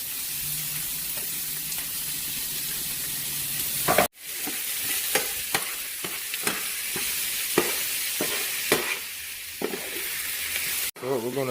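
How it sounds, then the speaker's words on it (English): Ground hamburger meat frying with onions in a pan for vegetable beef soup, a steady sizzle broken by repeated scraping strokes of a spoon stirring it, close and clear, with a brief pause midway. "now I'm going to go ahead and add my hamburger meat to the mix."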